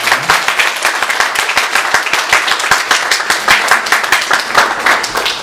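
A church congregation at Sunday worship claps for a departing youth group president, loud close applause with distinct individual claps audible within the steady roar.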